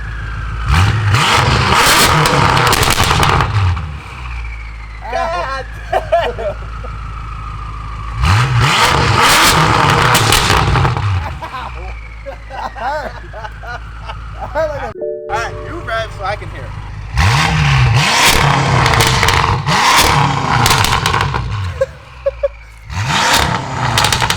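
A BMW F10 M5 revs while driving, its engine surging loud in repeated bursts of rising roar separated by quieter cruising stretches, heard up close from inside the car.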